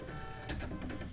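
A Baby Lock embroidery machine stitching yarn in place for couching, with a steady mechanical hum and quick clicking needle strokes up close, and no talking.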